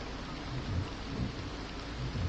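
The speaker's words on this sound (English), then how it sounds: "It's still raining, but for God's sake." Steady rain falls outside throughout, a dense continuous hiss with low rumbling underneath, heard alone without any voices.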